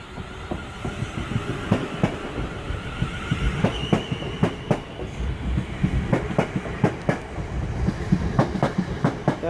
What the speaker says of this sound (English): South West trains leaving Guildford for London Waterloo via Woking.